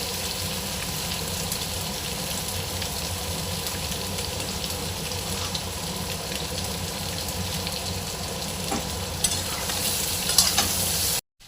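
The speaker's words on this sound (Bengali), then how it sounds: "এই যে একটু ভেজে নিয়ে একটু নুন আর হলুদ দিয়ে একটু ভেজে দেবো।" Vegetables fry and sizzle steadily in a pan, seasoned with salt and turmeric, with a constant close hiss and occasional stirring scrapes throughout, no talking.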